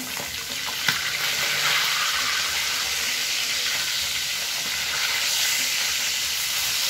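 Seasoned tuna meat frying in a pan, a steady loud hissing sizzle that holds evenly throughout with one small clack near the start.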